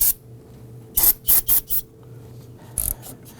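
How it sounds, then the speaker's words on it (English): Spray solvent hisses onto a rusted brake master cylinder on a 2008-2011 Ford Focus: four quick, close bursts in a row, a pause, then one more short spray. "I'm going to give that a quick spray with some spray solvent."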